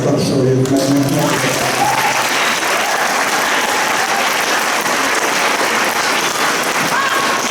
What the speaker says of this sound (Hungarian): És őket is még egyszer tapsoljuk meg nektek.